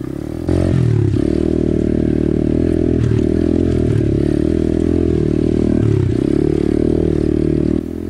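An Apollo RFZ 125cc pit bike engine buzzes loud and close while riding a tight, overgrown single-track trail in low gear, with the revs rising and dipping and occasional clatter from the bike.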